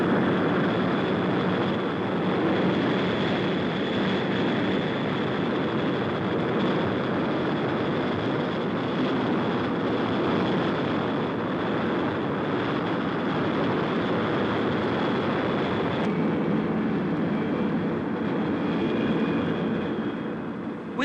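Avro Vulcan bomber engines produce a steady, loud, broadband roar that holds continuously throughout, with a faint high whine riding on top and no breaks.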